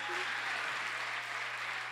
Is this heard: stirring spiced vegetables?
no